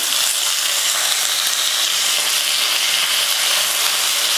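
Onion and curry leaves dropped into hot oil after mustard seeds have popped, a loud dense hiss of frying that holds steady and close throughout, with no talking.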